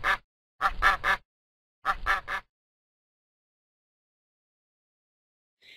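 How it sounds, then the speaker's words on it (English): A duck quacks in two quick bursts of three calls each, loud and close, with silence between and after. "What sound does a duck make?"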